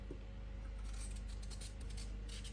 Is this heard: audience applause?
no